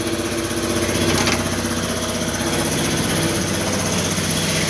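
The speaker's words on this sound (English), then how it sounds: "Get away from this air compressor." Air compressor running steadily in a machine shop beside a Schiess vertical turret lathe, a loud continuous mechanical drone with a pulsing motor throb, close and unbroken throughout, no talk.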